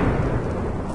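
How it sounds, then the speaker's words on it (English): A Minecraft lightning strike rolls as a loud, broad rumble of thunder with a rain-like hiss, filling the whole moment without a break. "One of the creepers got struck by lightning"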